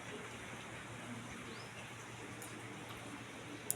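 Heavy rain pours down in a steady, unbroken hiss that stays soft and even across the whole stretch, with a faint click near the end.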